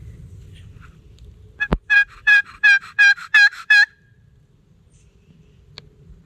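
Wild turkey gobbling during a hunt with a box call, a single loud rattling gobble of about six rapid pulses, fairly close, standing alone over a quiet outdoor background with a sharp knock just before it.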